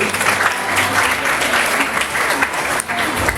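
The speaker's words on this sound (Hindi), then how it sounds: "एक बार जोरदार तालियां बजा दो उनके लिए" Loud, dense applause from an audience at a felicitation ceremony for high-performing school students, honouring a teacher, sustained and even from start to finish.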